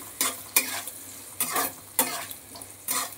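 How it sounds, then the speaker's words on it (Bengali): Salted vegetables for butter sabzi paneer fry in a pan, stirred with a spatula that makes about five distinct, close scraping strokes over a low, steady sizzle. "নুন দিয়ে আবার খানিকক্ষণ নেড়ে নিচ্ছি"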